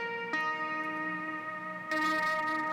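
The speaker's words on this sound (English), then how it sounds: "the distortion is what gives it all of its character right here" Crunchy, fully driven distortion saturates an 80s-style synth beat programmed on an MPC Live 2, sustained harmonic tones buzzing steadily with a brighter, louder swell near the end; no voices.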